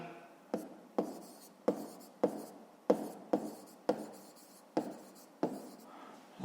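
Pen writing on paper while working a fifth-grade math exercise, with a run of short scratchy strokes in a steady rhythm, close and quiet.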